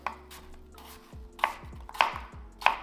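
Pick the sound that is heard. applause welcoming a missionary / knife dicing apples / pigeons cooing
knife dicing apples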